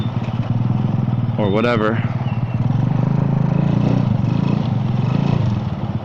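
Steady motorcycle engine drone in busy traffic heard from a moving vehicle, with a brief rising whine of a passing bike and a person talking over the constant rumble.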